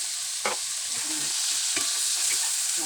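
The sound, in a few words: pork lung frying in pan for Kapampangan kilayin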